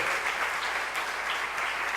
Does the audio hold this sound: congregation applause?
yes